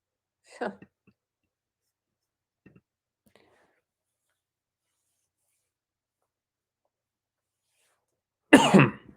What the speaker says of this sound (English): that cough came out of nowhere